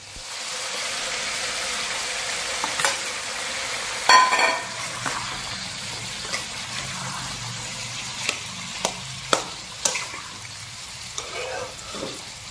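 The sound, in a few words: chopped onion and tomato frying with chicken gizzards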